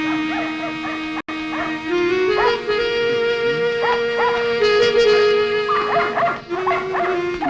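Dogs bark and yip in a Malayalam comedy film scene, several short bursts over a sustained droning tone, with a brief gap early on and repeated yelps continuing to the end.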